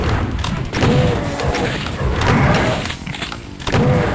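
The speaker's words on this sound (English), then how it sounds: "Took a lucky low damage rocket there." Rocket explosions strike the player in the Doom map Slaughterfest 2012 Map02, landing as loud, dense booming thuds amid continuous chaotic game combat noise, close and heavy throughout.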